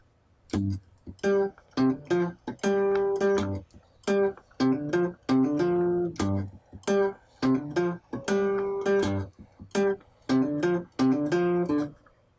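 An electric guitar plays a repeating four-bar riff with short, punchy chords and single notes and crisp gaps between phrases, clear and close with no voices.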